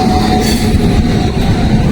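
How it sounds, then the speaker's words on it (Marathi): A passenger train pulls into a station with a steady, loud rumble of wheels and carriages, a low droning hum and faint squeals holding constant across the whole two seconds, with no voices. "थोड्याच वेळात ट्रेन पण आली बघू शकता अशा पद्धतीने अशा पद्धतीने ट्रेन आलेली आहे आमची"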